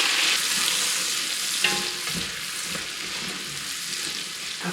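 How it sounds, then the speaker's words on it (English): Onions soften in half a cup of melted butter in a pan, giving a steady close sizzle and frying hiss with occasional soft stirring knocks. "I've got a half a cup of butter melted, and I'm going to soften these onions."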